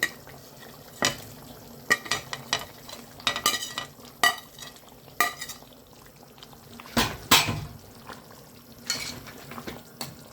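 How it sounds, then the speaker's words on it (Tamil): Okra stirred into a bubbling tamarind curry in a pot, with soft simmering underneath and irregular close clinks and scrapes of a ladle against the vessel, moderately quiet and without speech. "நல்லா கிண்டி விட்டுக்குவோம்"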